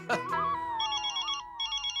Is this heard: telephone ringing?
yes